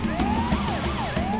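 An ambulance siren wails in the video game GTA 5, loud and continuous with a rising and falling sweeping tone.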